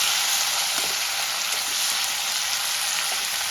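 Cut vegetables for shukto sizzling in a pan with panch phoron, a steady, close hiss of frying that holds evenly throughout with no talking.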